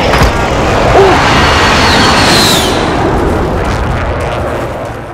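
Heavy artillery strike explosions in Call of Duty Warzone roar as one long, loud rumbling blast that swells and slowly fades, with a faint voice briefly underneath.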